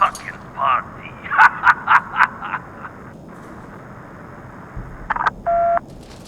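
A telephone keypad is dialed in the video game Dying Light 2, with a quick run of short, clear tone beeps, a few more later, and a longer held tone near the end over faint background ambience.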